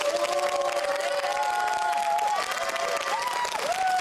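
An audience at a school reading-and-debate contest claps for two debate teams, a steady wash of hands with voices and cheers rising over it.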